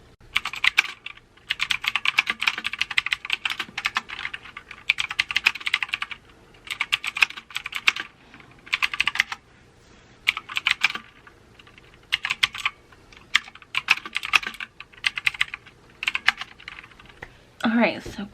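Steady bursts of typing on a computer keyboard while someone writes, clicking keys in quick clusters separated by short pauses, close and clear, with a brief louder knock at the very end.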